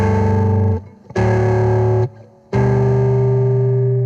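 An electric guitar strums three heavily distorted chords, each ringing out loud and sustained with brief gaps between them.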